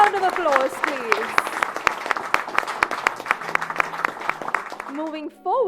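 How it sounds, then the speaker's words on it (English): Audience applause for medical students at an MBBS orientation program, dense clapping with sharp claps throughout, while a voice carries on over the top, ending with a brief pause and more talk. "let's put our hands together and give a big round of applause for all our students"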